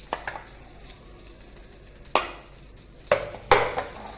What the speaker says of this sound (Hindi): ये देसी घी ऐड कर रही हूँ मैं इसके अंदर